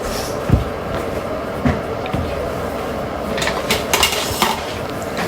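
A lid is set onto a pot of braised salted pork liver in a home kitchen, giving a few sharp metallic clinks and clatters with soft rattling in between, close and fairly loud, with no talk.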